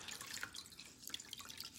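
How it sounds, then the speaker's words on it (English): Warm water from a sink tap rinsing a cloth, with soft, faint trickling and dripping splashes running continuously at close range. "I'm gonna go in with my cloth, get some warm water, and I'm gonna rinse that off"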